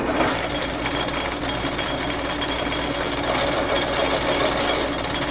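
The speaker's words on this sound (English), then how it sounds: "now I got to cut a ledge on that so that I can weld this washer to it" A metal lathe in back gear cuts a ledge into a David Bradley Pla-Trac wheel part, giving a steady, loud grinding machine roar with a constant high whine that runs without pause and without talk.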